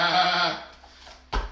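A person's voice imitates a sheep with one drawn-out, wavering baa during a parent-and-child session, followed by a short soft thump.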